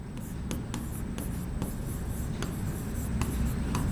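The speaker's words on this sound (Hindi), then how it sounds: "तो यहां पे मैं फॉर्मूला मेकिंग लिखता हूं।" Marker or chalk writing on a classroom board during a chemistry lesson, a continuous scratchy scrawl with regular stroke taps, close and fairly loud over a steady room hiss.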